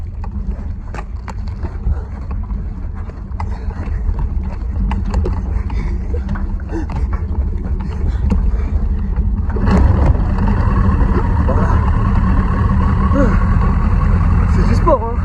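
A cheap used 600 to 900 cc motorcycle engine catches and runs with a low, rough idle, then rises into a louder, fuller running note near the end. Someone talks over the engine.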